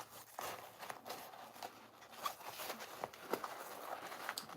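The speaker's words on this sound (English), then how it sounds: "So this needle on this machine, it'll go right through a zipper." Industrial sewing machine needle punching through a number 10 zipper and fabric, a quiet run of light ticking and rustling stitches with scattered sharp clicks, no voices.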